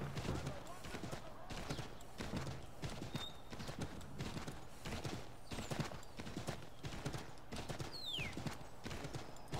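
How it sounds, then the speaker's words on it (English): Horse hooves clip-clopping steadily while galloping through snow in the video game Assassin's Creed III, a continuous rhythmic patter throughout, with someone talking over it and brief whistling game effects. "Horses run way better in the snow than people do on this game."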